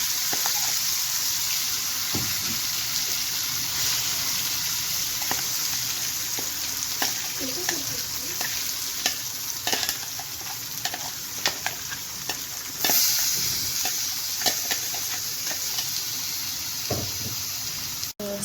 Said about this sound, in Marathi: गॅसा फ्लेम एकदम लो दवरका आनी सगळे बरे करून सुकून येतपर्यंत भाजून घेवका